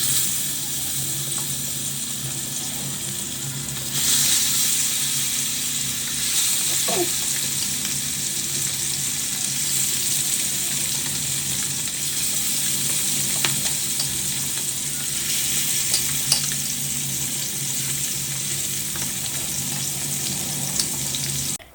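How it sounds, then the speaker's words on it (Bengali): Koi fish fries in a pan with a continuous loud sizzle and hiss that holds steady throughout, with occasional faint clicks and spatters. "কই মাছটাকে আগে ভাজতে দিয়ে"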